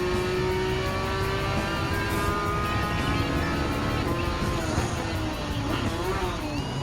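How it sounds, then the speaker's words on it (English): A 1992 Porsche Carrera RS Type 964 race car in Gran Turismo 7 drones loudly and continuously at close range, its engine pitch holding and then shifting as it slows, with faint tire and track noise. "Here comes the 1992 Carrera Rs Type 964."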